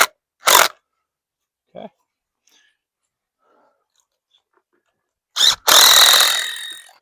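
Impact wrench driving fasteners to mount a VEGO garden hose reel in a front yard: one short close burst, a quiet gap, then a brief rattle and a longer sustained whirring run.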